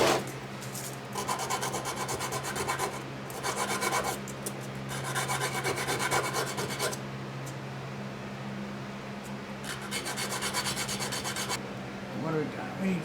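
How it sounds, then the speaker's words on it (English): Rasping strokes of a hand file deburring a metal part on a junkyard Bullnose Ford, in repeated bursts of steady back-and-forth filing with short pauses between, close and fairly loud over a low hum. "We could deburr it a little bit."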